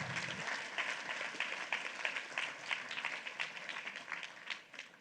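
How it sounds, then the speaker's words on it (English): Audience applause at a leadership conference for a team of participants, a moderately distant crowd clapping steadily and evenly, fairly quiet, with no voices over it. "Round of applause for Team A."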